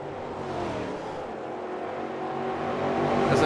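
Stock cars racing around the Velopark circuit in the Brazilian StockCar Series sim race, engines droning steadily and filling the scene, the roar building slightly toward the end with no talk.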